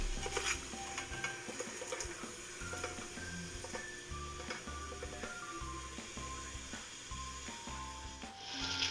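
Shrimp for a spicy shrimp and sausage chowder sizzling in a pan while a utensil stirs and scrapes them in a steady rhythm, close and fairly quiet, no voices.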